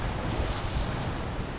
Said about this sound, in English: those waves are just worth watching for a while because they're so extreme